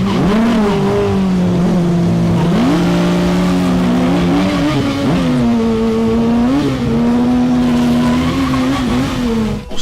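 A Kawasaki H2 supercharged motorcycle, its restriction removed and its gearing changed for more boost, revs hard at a 2017 race day. The engine drones loud and close throughout, its pitch swooping up and down with each blip of the throttle.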